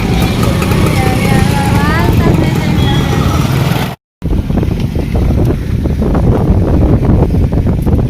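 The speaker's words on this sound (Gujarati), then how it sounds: "મારી પણ પવન બહુ" Strong wind buffets the microphone outdoors, a loud, continuous roar with a brief dropout midway, while a voice talks faintly underneath at the start.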